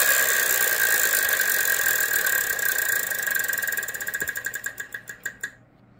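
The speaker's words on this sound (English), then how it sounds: "I'll spin the wheel" The Wheel of Fortune game-show wheel spins with a steady rapid clicking of its pointer over a loud studio hum, then the clicks slow and space out before it stops.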